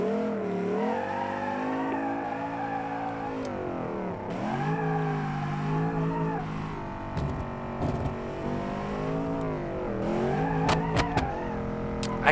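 Car engine in the BeamNG.Drive video game revving hard while the wheels spin off-road, its pitch rising and falling through sustained throttle with squealing tires near the end.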